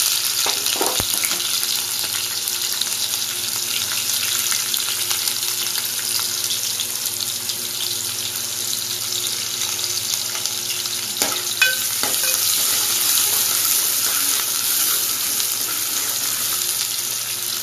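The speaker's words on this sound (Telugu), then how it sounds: "ఫ్రై అయినాయి కదా ఆనియన్స్ వేస్తాం" Onions frying in oil for a bitter gourd curry, giving a continuous, close, even sizzle with occasional stirring clicks and no voices over it.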